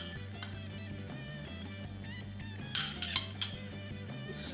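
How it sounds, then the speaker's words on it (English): A utensil scrapes and clinks against a pot while beef and red wine stew is stirred, soft continuous scraping with a few sharper metallic taps close by. "Stir that up a little bit."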